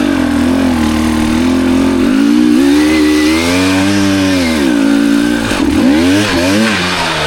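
A KTM hard enduro motorcycle in a forest, loud and close, its engine revving up and down in repeated throttle blips and sweeps with no talking.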